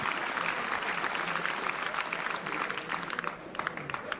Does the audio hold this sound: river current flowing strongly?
no